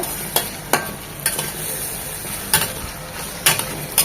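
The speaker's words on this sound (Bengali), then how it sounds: "আমরা যে কুচানো চিংড়িটা নিয়েছি সেটা দিয়ে দিচ্ছি এটাকেও জাস্ট এক মিনিট সাথে ভেজে নেব" Chopped shrimp fry in a pan for a snake gourd dish, giving a loud continuous sizzle. About six sharp spatula scrapes and knocks come at irregular intervals.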